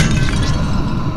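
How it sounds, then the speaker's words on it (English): An urn smashing in the video game Amnesia: The Dark Descent, a loud, brief burst of breaking ceramic or glass debris, close and heard alone. "Smashed your grandma's urn."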